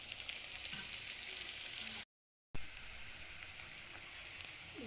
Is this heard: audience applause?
no